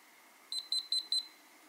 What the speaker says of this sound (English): You should hear four beeps, and that indicates that it's turned off.